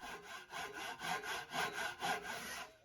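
Hand saw cutting a circular wood piece clamped in a vise, with about six rhythmic rasping strokes in steady back-and-forth succession, close and fairly quiet.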